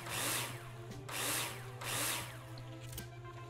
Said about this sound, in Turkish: Matkap oğlum matkap.